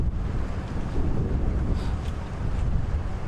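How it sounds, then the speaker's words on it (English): Strong wind buffets the microphone during a morning safari drive in the African bush, a steady broadband roar that swells and eases while trees sway nearby; no talking is heard. "You get a good idea of how windy it is."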